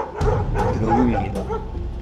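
Several dogs barking and yipping in a forest during a search for a bear, a run of sharp, loud barks close by with faint voices in the background.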